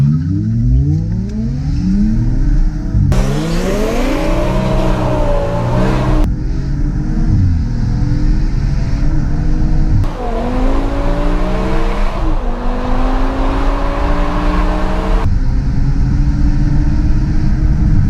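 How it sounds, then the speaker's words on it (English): A BMW accelerates hard with traction control off, its engine revving and shifting through rising pitch sweeps while tyres squeal in bursts, loud and continuous at a car show. "I turned the traction off and left a whole load of rubber behind."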